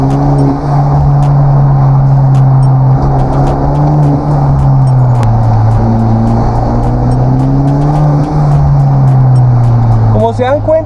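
A Genesis Coupé 2.0T with a straight-pipe exhaust revs loudly and raggedly, its deep throaty roar rising and falling in waves, with a sharp crackle near the end.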